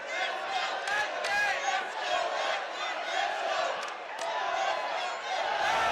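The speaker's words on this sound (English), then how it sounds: "This crowd chanting Eduard's name." Large arena crowd at a mixed martial arts fight chanting a Filipino fighter's name, a loud sustained roar of many voices rising and falling in waves.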